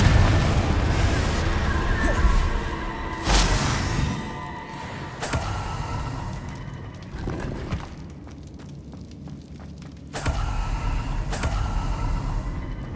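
Several heavy booms from the Confringo blasting spell in Hogwarts Legacy (2023) burst out at intervals over rumbling game ambience, each a loud sharp hit that decays slowly, with quiet talk in places.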